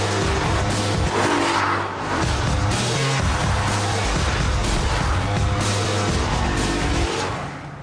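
A Maserati GranTurismo engine revs and accelerates hard, a loud, continuous close-up roar that climbs through the gears with a brief dip near two seconds, tyre noise underneath and no talking.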